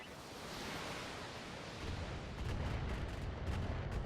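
A volley of missiles launching from a BattleTech mech in the video game, a rising roaring rumble building to a dense string of thudding impacts near the end, no voices.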